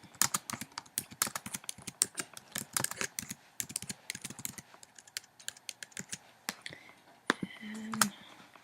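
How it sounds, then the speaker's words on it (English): Rapid clicking keystrokes on a computer keyboard while typing a title, in quick irregular bursts close to the microphone, ending with a few heavier clicks. "And I'm going to just write in my title."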